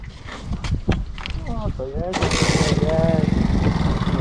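A luxury chopper motorcycle engine idling and revving, with a rough uneven putter that rises sharply midway into a louder steady running drone, while people talk close by over it.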